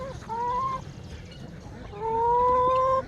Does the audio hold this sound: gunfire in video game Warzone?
no